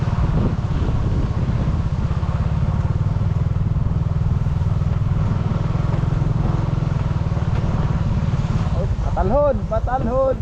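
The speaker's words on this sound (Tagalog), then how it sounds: "Ito ang mahirap pag drive ba kasi ng motor pag ang buhangin ay malambot." A motorcycle engine runs steadily and loudly while riding through soft sand, with wind buffeting the microphone throughout and a brief voice near the end.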